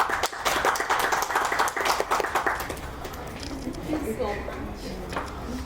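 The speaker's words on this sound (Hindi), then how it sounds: "तालियां बजा रहे हैं, अपनी भी तालियां बजाएं" Audience applause at an open mic show in a Karachi arts council hall, a dense burst of clapping at the start that thins and fades over several seconds into crowd murmur.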